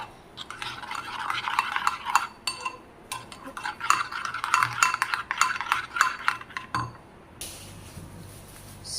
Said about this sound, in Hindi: इसे करेंगे अच्छे से मिक्स, और ये सारे मसाले चले जाएंगे इसमें।